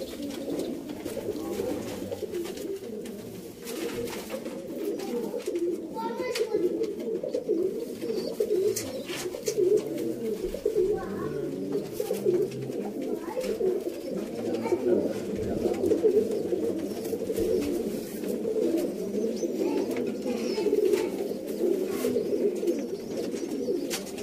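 Sialkoti pigeons coo continuously in a dense, murmuring chorus of throaty calls, close and steady throughout, with someone talking intermittently over them.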